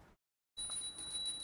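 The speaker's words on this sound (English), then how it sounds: "please ring the bell as you do so" A small hand bell rings during a dhupa incense offering, giving a faint, steady, high metallic ring that sustains after a short silence.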